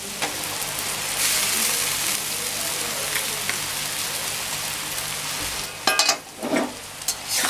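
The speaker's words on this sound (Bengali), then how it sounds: "চাউমিনটা একটু নাড়াচাড়া করে দেব।" Chowmein noodles on cooked vegetables hiss and sizzle steadily in a hot pan, with louder bursts of stirring and scraping toward the end, close and continuous, with no talking.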